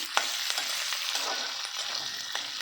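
Onions and green chilies stirred and fried in oil in a pan for semiya upma, a steady sizzle broken by short scraping knocks of the spoon, close and alone.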